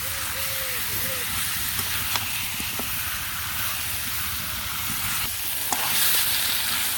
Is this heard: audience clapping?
no